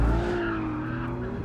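Tires of a Ferrari 296 GTB hybrid supercar squeal as it slides through a bend on a track, a loud sustained screech with an engine drone underneath, with no talking.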